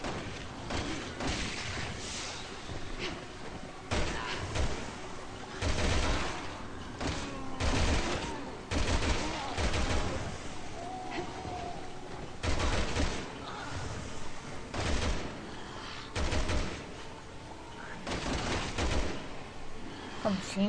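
Sustained machine gun fire in Resident Evil 6, bursts of rapid shots with heavy thuds and booms recurring throughout, loud and close, with a voice talking intermittently over the gunfire.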